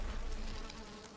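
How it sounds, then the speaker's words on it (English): Angry bees buzzing at a honey hive in the Valheim video game, a dense droning swarm hum that is loud and close, steady then easing slightly, with no voices. "The bees are not happy."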